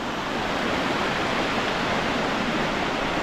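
A waterfall in Glen Etive in the Scottish Highlands roars as a steady, broad rush of falling water, loud and close, with no talk.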